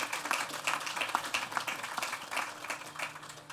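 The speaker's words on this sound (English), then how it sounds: "Can you give a round of applause to Tran?" An audience applauds at a transit facility grand opening, scattered individual claps building into a lively round of applause at moderate volume, with a faint murmur of voices beneath.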